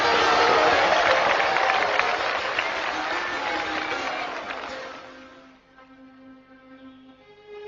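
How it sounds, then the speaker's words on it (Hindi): An audience applauds loudly and steadily, then the clapping thins out and fades, leaving a faint held tone and a few scattered claps near the end. "जब तालियां मारो तो जरा जोर से मारो"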